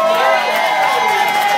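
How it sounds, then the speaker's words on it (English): Guests at a 30th wedding anniversary celebration cheer and shout loudly, a continuous near crowd roar with high voices over it. "give them a round of applause for 30 years"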